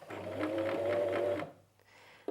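Janome 423S sewing machine running a burst of straight stitches to secure a seam, a close, steady whirring hum for about a second and a half that stops abruptly, followed by faint handling noise.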